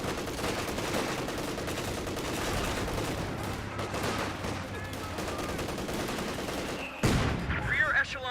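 Rifle squads trade sustained gunfire in Company of Heroes 2, a steady barrage of overlapping shots and bursts that swells and then ends in a louder burst of explosive fire near the end.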